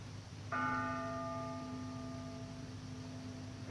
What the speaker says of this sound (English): How long will that bell go on?